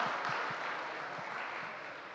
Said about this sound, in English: I think we should give Tyler a round of applause for a marathon karaoke session